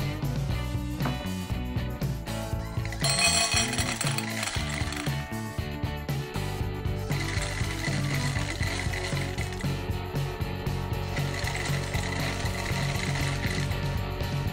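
An automatic cat food dispenser, automated with Home Assistant, drops portions of round dry kibble with a continuous mechanical ratcheting and whirring that clicks along steadily, close and fairly loud throughout.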